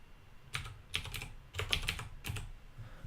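Fingers type on a computer keyboard in short irregular bursts of close clicking keystrokes, with brief pauses between runs and no talking.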